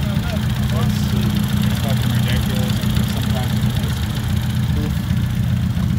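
At a Ford car meet, a modified Ford idles with a loud, steady, deep rumble and no revving, while people talk nearby.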